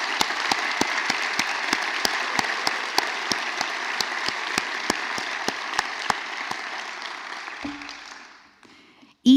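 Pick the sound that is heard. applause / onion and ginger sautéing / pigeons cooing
applause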